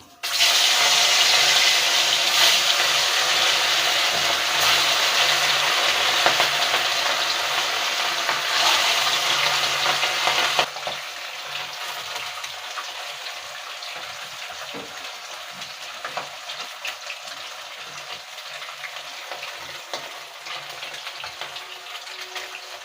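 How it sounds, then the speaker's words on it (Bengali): Fish hits hot mustard oil with a loud, dense sizzle that roars strongly at first, then drops suddenly to a quieter steady hiss partway through, with no one speaking. "তো তেলটা গরম হয়ে গেছে, আমি এবার মাছটা ভেজে নেব।"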